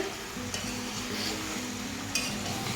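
Mutton curry with potato is stirred and fried in a pan, a steady close sizzle with scraping spoon strokes and faint clinks of metal cookware throughout.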